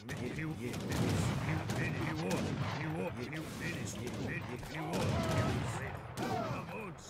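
Rocket volleys and musket gunfire from an Age of Empires III battle, a dense continuous barrage of booms and crackling shots, with a voice talking over the din throughout.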